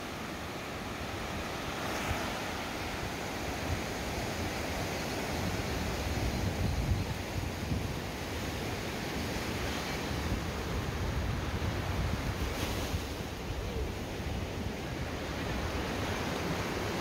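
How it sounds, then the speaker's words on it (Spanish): Strong ocean surf at Las Hojas beach in El Salvador, near Costa del Sol, roars steadily and loudly throughout with broadband wash and wind, no voices present. "las olas aquí están muy fuertes"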